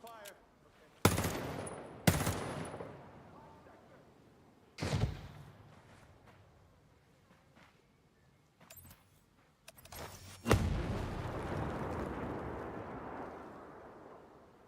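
Weapon fire in Ghost Recon Breakpoint, a handful of loud separate shots spaced seconds apart with ringing tails, then a longer rumbling burst, over a quiet game background.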